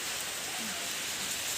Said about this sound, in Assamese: বাটলৈ যাব নোৱাৰিম, বৰষুণ দি আছে